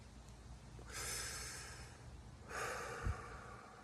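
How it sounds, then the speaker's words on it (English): A close, breathy inhale through a cigarette is heard twice, each a soft airy hiss lasting about a second, with a faint low pop near the end in an otherwise quiet room. "This is the sound of me taking a drag of my cigarette."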